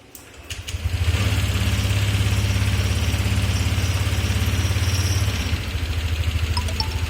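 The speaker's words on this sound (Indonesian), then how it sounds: "Setelah itu kita hidupkan sepeda motornya." A motorcycle engine, its spark plug cable clamped with a test lead during fuel system work, fires up after a second and settles into a steady, loud idle that runs until near the end.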